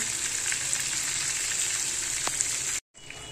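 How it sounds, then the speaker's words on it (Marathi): Bangda mackerel fish frying in a pan over low gas, a steady close crackling sizzle that runs on evenly, briefly cutting out before resuming. "अजून पण मच्छी काय भाजलेली नाही आहे"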